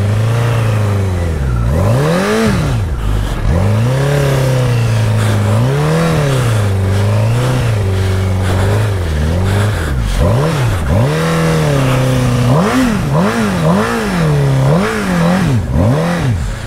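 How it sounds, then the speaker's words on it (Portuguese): A Honda CBR1000 motorcycle engine with a failed clutch revs up and down repeatedly, loud and close, its pitch swooping in uneven surges with no steady cruising note. "Acabou a embreagem da minha moto."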